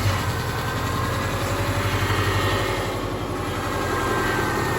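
An older Subaru Forester with a blown head gasket runs steadily and close by, a loud low rumble holding without a break the whole time.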